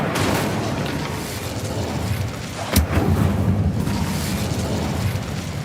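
Casting the Incendio fire spell in Hogwarts Legacy sets off a single sudden whooshing burst that flares up out of a steady low rumble of ambience, then quickly fades.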